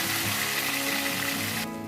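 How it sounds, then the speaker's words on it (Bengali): Bay leaves and whole cumin seeds tempering in hot mustard oil, a loud hissing sizzle that drops sharply near the end. "ওর মধ্যে তেজপাতা আর গোটা জিরে ফোড়ন দেব"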